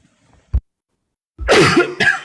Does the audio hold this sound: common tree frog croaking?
no